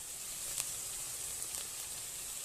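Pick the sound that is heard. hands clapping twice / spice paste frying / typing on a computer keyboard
spice paste frying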